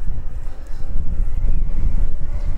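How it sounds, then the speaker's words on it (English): Wind roars in a low, continuous rumble across the microphone during a ride on a KBO Hurricane belt-drive single-speed e-bike, loud and steady without pause. "And it is a bit windy today."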